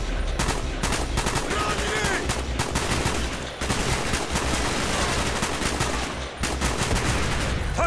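Rapid gunfire in the video game Call of Duty: Black Ops. Dense bursts of shots repeat for the whole stretch, loud and nearly unbroken, with brief lulls between volleys.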